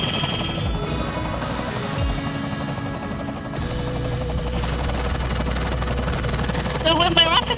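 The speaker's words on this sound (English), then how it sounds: "I love that you, with a helicopter, you can go and do whatever you like," A helicopter in flight makes a steady, loud whirring drone that fills the whole stretch, with faint rattles and clatter on top.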